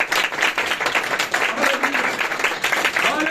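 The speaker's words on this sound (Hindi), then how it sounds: "ताली बजाएं भाई के लिए।" An audience at a church gathering claps steadily, a dense patter of applause filling the space while a voice speaks over it, moderately close and lively throughout.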